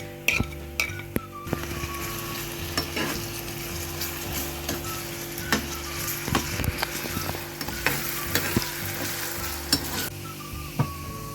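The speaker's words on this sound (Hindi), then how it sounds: "प्याज हमारे थोड़े थोड़े फ्राई हो गए हैं, जिसमें अदरक और लहसुन का पेस्ट शामिल करके इसको फ्राई कर लूँगी" Steady sizzle of onions frying with ginger-garlic paste, with frequent spoon scrapes and stirring clatter against a pan, close and continuous, no talking.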